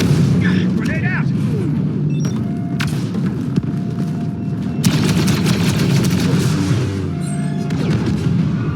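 Heavy booms and bursts of gunfire fill a Star Wars Battlefront 2 multiplayer battle, including a grenade blast, with dense overlapping explosions and shooting under shouted in-game voices.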